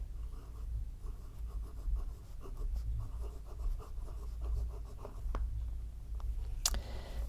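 A Pelikan M800 Souverän green demonstrator fountain pen with a fine nib writes on paper, giving soft, close, scratchy strokes in a steady rhythm with brief pauses between them.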